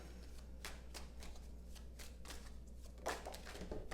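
Tarot cards being shuffled by hand in a close, steady riffle of soft papery flicks and slides, with a slightly sharper burst of card noise near the end and no talking.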